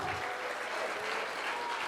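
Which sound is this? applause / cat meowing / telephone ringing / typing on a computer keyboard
applause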